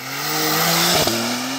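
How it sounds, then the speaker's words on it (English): A Porsche rated 0 to 60 in 2.7 seconds launches hard from a standstill on a poorly surfaced road, its wheels spinning. A loud, sustained engine roar carries a brief jolt near the end. "The wheels are spinning, you know."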